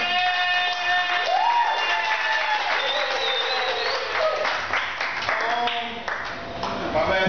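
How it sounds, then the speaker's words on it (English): Applause and scattered cheers from a small club audience at an unplugged stand-up comedy show, lively and continuous under a voice and background chatter. "A lot of applause for this venue and our host."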